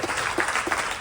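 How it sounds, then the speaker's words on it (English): A Ganesh Chaturthi festival audience claps briefly, a soft, even patter of many hands heard at moderate distance without talk. "clap for them every time"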